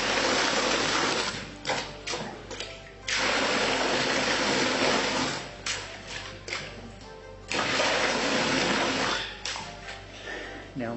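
A homemade free energy pump lifts water through a 4-inch pipe, making a loud mechanical churning and rushing that runs in long stretches and is broken by brief pauses and sputtering.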